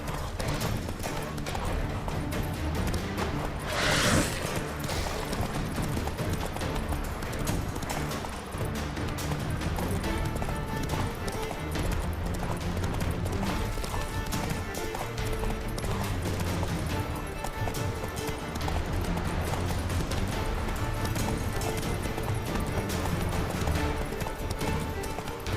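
Horse hooves clip-clopping at a gallop in The Witcher 3 video game, a steady rapid rhythm running continuously under loud game music and effects, with a brief swoosh early on.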